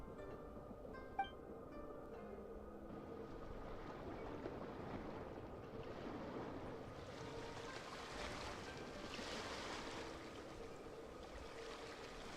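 Ocean waves wash gently in the video game Genshin Impact, a soft steady surf with a faint breezy hiss that swells slightly toward the end.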